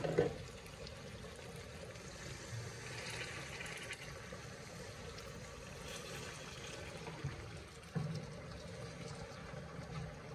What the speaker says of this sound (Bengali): তো এখন আমি এটার মাঝে জল দিলাম।